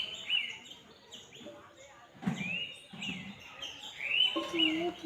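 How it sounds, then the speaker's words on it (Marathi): Birds calling at dawn around a house in the Konkan countryside, a few clear, thin chirps and whistled notes at moderate distance over a quiet background, with soft voice-like murmurs in between. "पक्ष्यांचा ओरिजिनल आवाज तुम्हाला"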